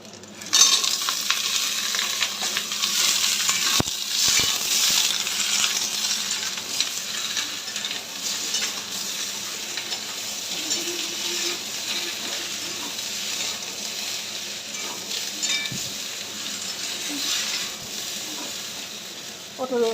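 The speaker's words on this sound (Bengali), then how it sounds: "পেঁয়াজটা ভাজা ভাজা হয়ে গেছে, এখানে পটল আলুটাও দিয়ে দেব।" Pointed gourd and potato frying with browned onion in a pan, a steady close sizzle with occasional stirring scrapes running through the whole stretch.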